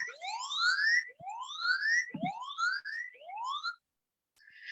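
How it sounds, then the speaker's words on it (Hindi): A phone safety app's siren alarm wails in loud rising sweeps, about four in a row, with a short steady tone after a brief pause. "आप देख सकते हैं यहाँ पे सायरन बज रहा है"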